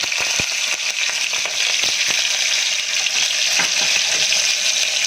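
Mustard seeds and chopped green chillies sizzle in hot oil with a steady, bright hiss punctuated by scattered sharp pops and crackles, close and continuous throughout.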